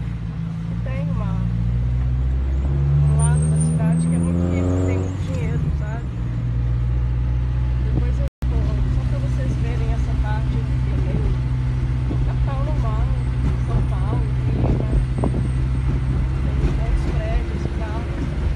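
Engine and road noise from inside a taxi moving through the city streets of Caracas, a steady low rumble with passing traffic, while people talk over it throughout.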